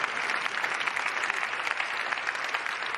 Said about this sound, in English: You can give them an applause here.